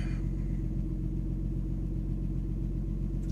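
A 2011 Ford Mustang V6 convertible idles with its top up, its exhaust giving a steady, deep, low rumble that stays even and mellow throughout, close by and alone with no talking.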